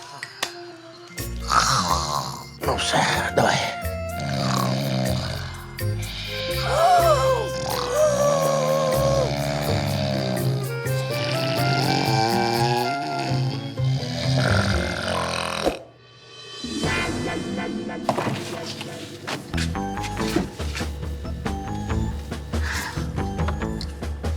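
Loud, exaggerated snoring in a comedy scene: long rattling, grunting snores repeat close up, with a brief quiet gap midway before they resume.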